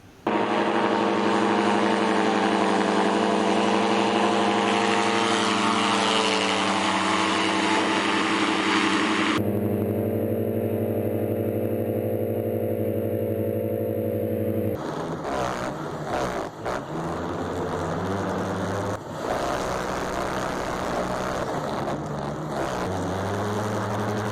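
A mini airboat's propeller engine drones loudly and continuously on a frozen lake while the boat drifts and power slides over smooth ice, its pitch shifting as the throttle changes.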